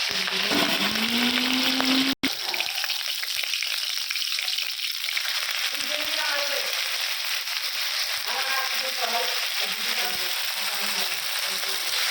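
Oil heats and fries in a pan with a continuous close sizzle and hiss, while a voice speaks intermittently over it and a brief sharp click cuts in early on.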